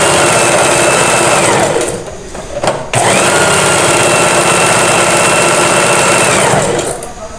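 A sewing machine runs a zigzag stitch along lace on underwear, loud and close in a fast continuous whir, pausing briefly in the middle before resuming at full speed.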